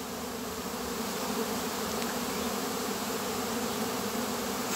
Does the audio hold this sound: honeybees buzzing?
yes